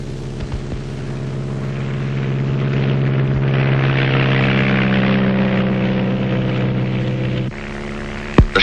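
Small propeller airplane engine in flight over rainforest, one of two light planes, a steady loud drone with a low harmonic hum that swells in the middle and drops in pitch near the end, with no voices.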